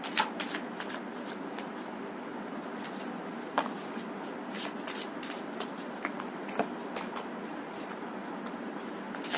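Tarot cards shuffled by hand at close range, a run of crisp riffling flicks and light slaps as some cards slip and fall, quiet and without talk.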